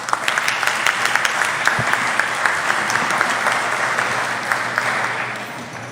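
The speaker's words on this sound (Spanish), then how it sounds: "Lo invitamos al podio y lo recibimos con fuertes palmas." Loud, sustained applause fills a hall at a congressional forum in Peru as a speaker comes to the podium, dense overlapping claps with sharper individual slaps on top, tapering slightly near the end.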